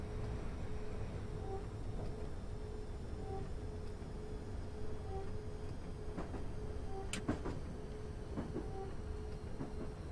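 A Class 319 electric train pulls into Gatwick Airport station, heard from the driving cab as a steady low rumble with faint intermittent beeps, clicks and squeaks, fairly quiet throughout.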